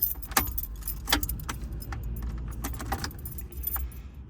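Car keys jangle in a Chevrolet Kalos as the ignition is switched off, a close, bright metallic rattling in several bursts over a low steady hum from the car.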